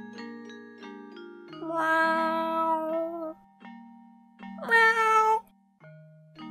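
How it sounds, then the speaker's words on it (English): Synthesized cat meows in an RPG Maker adventure game, two clear, drawn-out tonal meows over a steady electronic music loop, heard alone without talk. "Look, it's a mad cat."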